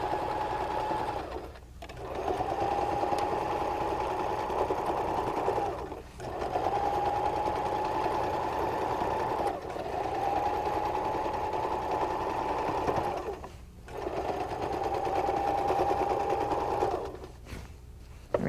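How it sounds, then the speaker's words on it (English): A sewing machine runs in long steady bursts while stitching drapery fabric, its close, even motor whir stopping briefly between runs, with no talking. "so that I can just sew quickly and with ease"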